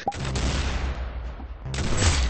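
Gunfire in the video game Arsenal: a sharp shot bursts out, then a dense, noisy blast rolls on and a second burst of fire follows, all loud and close.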